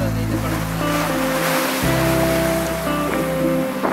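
Waves breaking and washing along a rocky beach at Kasimedu, Chennai, a steady rushing surf roar that fills the whole stretch, loud and close, with a low engine-like hum underneath and no talk.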